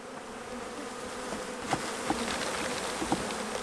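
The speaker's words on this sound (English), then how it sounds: "you can see these bees down here, and they're just clustering on the walls" Honey bees in a small hive box give a steady, close buzzing hum, with occasional soft knocks and taps from handling the box.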